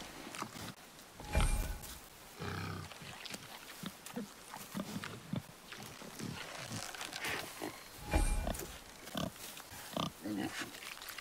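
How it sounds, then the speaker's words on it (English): A wild boar in the video game God of War grunts and snorts in repeated bursts over ambient game sound and footsteps, at moderate distance and fairly faint. "The wild boar's hide is thick."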